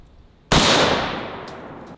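A single close rifle shot at a sledgehammer target gives one sharp, loud crack that rings out and decays over about a second and a half, after a quiet lead-in.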